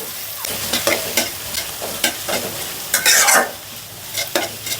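Onions sizzle in mustard oil for beef biryani, a loud close frying hiss broken by repeated scraping strokes of a spoon stirring the pan, with one busier burst of sizzling near the end and no talk.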